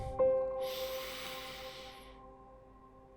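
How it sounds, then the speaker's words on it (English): A single long exhale of deep breathing during a meditation session, a soft airy hiss that swells then fades over about two seconds, close and quiet with no talk. "Take a few deep breaths."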